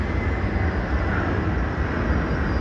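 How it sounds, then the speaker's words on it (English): A Qantas airliner taxis at an airport for Johannesburg, its engines a steady, loud low rumble with a broad whine on top, constant and unbroken throughout. "Qantas 63 going to Johannesburg's just taxiing down"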